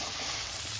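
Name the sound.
crab frying in hot oil with turmeric and salt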